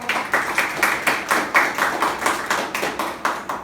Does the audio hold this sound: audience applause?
yes